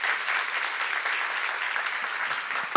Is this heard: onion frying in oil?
no